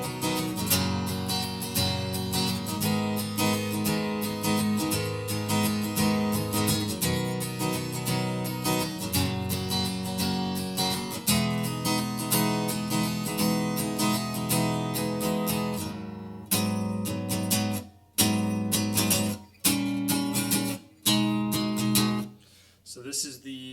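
Guitar playing the chorus of a song, sustained strummed chords ringing steadily, then a few spaced chords with short gaps near the end.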